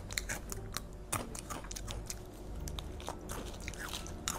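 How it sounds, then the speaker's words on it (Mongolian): Crunchy Pretz pretzel sticks being bitten and chewed up close, with repeated sharp crisp crunches in an irregular rhythm and no talking. "Pretz гэд ийм шагшураг байна."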